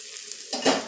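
Lightly browned fried cauliflower is stirred and lifted from a pan, a soft scrape and rustle giving way to a louder burst of sizzling and clatter near the end, close and alone.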